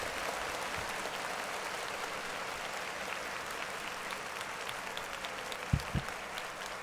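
Steady applause from a group fills the space, an even, rushing patter of many hands clapping at moderate volume for about seven seconds, with a couple of sharp thumps near the end.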